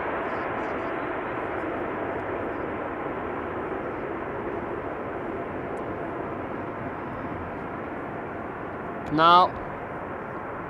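An airliner landing at Amsterdam Schiphol Airport with thrust reversers engaged, a loud continuous broadband roar lasting throughout, with a brief chirp near the end and a single spoken word at the start.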